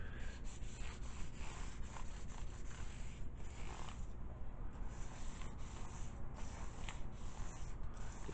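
Guitar frets are sanded with 1000-grit paper, producing soft, quick back-and-forth rubbing strokes in a steady rhythm, faint and close.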